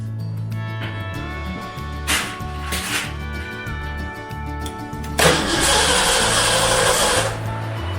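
A Ford Ranger engine with its coil wire disconnected cranks over steadily on the starter during a compression test, giving a rhythmic, chugging pulse up close, with a louder hissing burst partway through.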